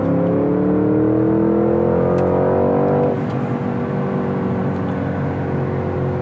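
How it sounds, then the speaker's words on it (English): A Porsche Cayenne SUV accelerates hard in Sport Plus mode toward 120, its engine rising in a loud, steady climbing drone heard from inside the cabin, then easing to a lower cruising roar. "Let me just demonstrate what happens when I push the accelerator when we get to the speed limit of 120 here."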